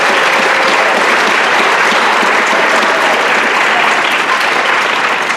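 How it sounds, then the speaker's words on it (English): A school audience applauds at an academic awards ceremony, steady, dense clapping that fills the room at full strength from start to finish with no voices standing out. "Let's give them a round of applause."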